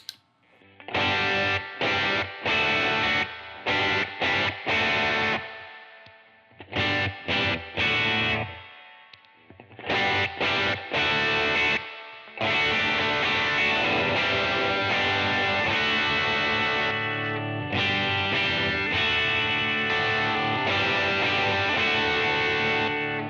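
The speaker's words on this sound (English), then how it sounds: "So think of this as just a traditional tube screamer style pedal." Electric guitar through a Tube Screamer-style Mythos Envy overdrive pedal, playing chunky riffs and sustained chords with a warm, gritty crunch, starting in bursts with pauses, then ringing out continuously.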